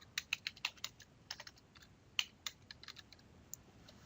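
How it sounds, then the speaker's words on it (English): Computer keyboard keys are tapped in a quick, uneven run of crisp clicks, including the enter key, heard up close and quiet with no talking. "I've just hit the enter key there"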